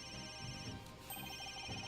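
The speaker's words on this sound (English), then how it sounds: "Where's that ringing coming from?" Telephone ringing in the courtroom adventure game Phoenix Wright: Ace Attorney - Dual Destinies, a repeating electronic ring pulsing steadily over game background music.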